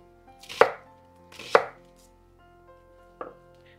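Knife chopping vegetables on a cutting board for carrot soup: three separate sharp chops, two close together and a softer third, each standing alone in a quiet room.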